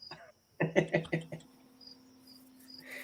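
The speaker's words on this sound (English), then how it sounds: "All I hear is crickets" Cricket-like chirps come in a quick burst of about five pulses early on, then a steady high buzzing tone carries on faintly to the end, used as a joke on a wrestling commentary show.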